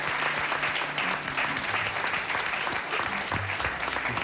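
Steady, full applause from a live comedy-show audience for Jordi Castel, many hands clapping in a dense, unbroken wash at constant loudness, with a few low voices faintly mixed in.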